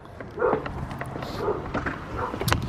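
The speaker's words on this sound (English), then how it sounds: "There's a dog. Hi, dog." A dog on a porch barks and yips several times in short bursts at moderate distance, with faint outdoor background noise.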